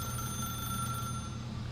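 A telephone rings steadily in The Stanley Parable Ultra Deluxe, a constant electronic tone held at even loudness through the whole moment over a low background hum, with no talking.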